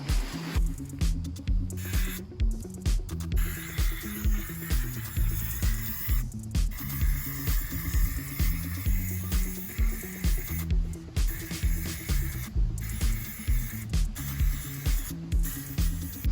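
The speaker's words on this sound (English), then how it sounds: "So we're gonna go ahead and spray paint the hardware." Repeated hissing bursts from a spray gun painting furniture hardware, pulsing at a steady rhythm over a continuous low mechanical hum, close by.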